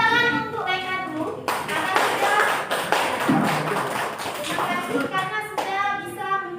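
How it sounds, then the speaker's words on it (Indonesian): Schoolchildren in a classroom applaud a student group with dense, steady hand clapping that fills most of the clip, with children's voices heard briefly before and after the burst. "Jadi tepuk tangan untuk mereka dulu"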